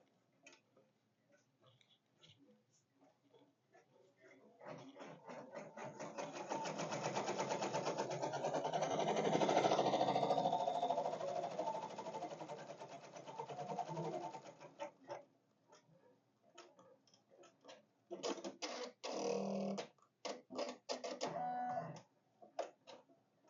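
An embroidery machine sewing a placement stitch in white thread on a tote bag, a steady mechanical whirr that swells and fades over several seconds, followed by bursts of quicker tapping stitches, fairly quiet.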